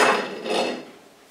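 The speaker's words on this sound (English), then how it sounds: "we'll probably have to tap it with a bit of a mallet to break it loose." A single mallet strike rings against the brake disc of a Demag KM motor as it is knocked loose, a bright metallic clang that decays quickly, heard close up without speech.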